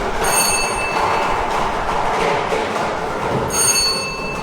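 A circular Lao lottery drawing machine spins with a steady, loud whirring rumble and a rushing hiss that holds for the whole stretch, with no talking.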